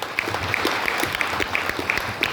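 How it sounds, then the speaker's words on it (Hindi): An audience at a leadership closing event gives a brief, vigorous round of applause, with dense clapping filling the short moment and a faint voice beneath. "आज हमारे अपलाइन महानंद आर्या सर की एक बार जोरदार ताली"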